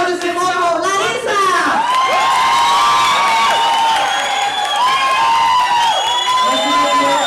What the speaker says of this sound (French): Applaudissements pour Larissa!